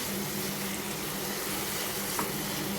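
Beef and spices frying in a pan for beef achar, giving a steady, even hiss and crackle close by, with a faint low hum underneath and one small clink.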